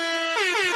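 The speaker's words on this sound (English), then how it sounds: "The air horns there" A loud air horn blares in a long sustained blast, its pitch jumping higher partway through, with no talking.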